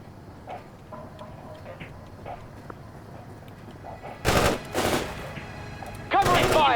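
Gunfire in the real-time strategy video game World in Conflict, several sharp loud bursts near the end after quieter ambient battle noise and faint distant pops.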